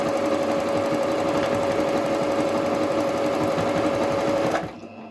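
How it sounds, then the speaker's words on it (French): A sewing machine topstitches two layers of fabric together on a cloth face mask, running as a loud, steady, continuous whir that stops abruptly just before the end. "Je vais surpiquer les 2 épaisseurs ensemble."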